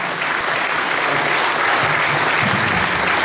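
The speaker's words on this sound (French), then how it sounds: "Vous pouvez applaudir une fois de plus Philippe de Winter." A large audience at a French nationalist political gathering applauds a speaker, a dense, steady wash of clapping that stays loud and even throughout with no voices on top.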